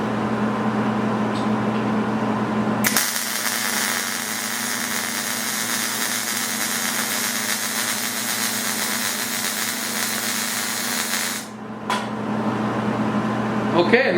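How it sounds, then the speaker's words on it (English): MIG welding with the push technique: a steady, loud, continuous crackling hiss that starts abruptly, runs for about nine seconds, then cuts off, over a constant low machine hum. "I completed 2 other welds by pushing."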